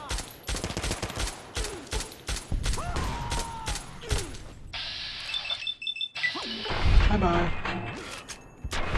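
Gunfire in the video game Fallout New Vegas comes as rapid bursts of loud shots and mechanical clatter, with game effects in between and someone talking over parts of it.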